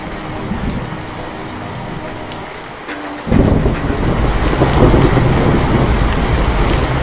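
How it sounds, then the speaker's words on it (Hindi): Heavy rain pours down steadily at night, a dense loud hiss that grows heavier partway through, with no talk over it. "ये बारिश तो थमने का नाम ही नहीं ले रही"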